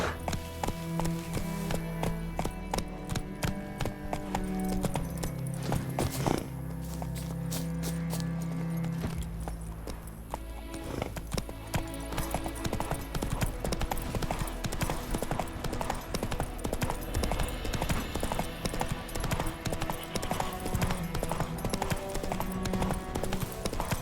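Roach the horse gallops in Witcher 3, hooves clip-clopping in a fast, steady rhythm up close, with game music and ambience underneath throughout.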